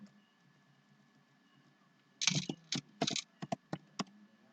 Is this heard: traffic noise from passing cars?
no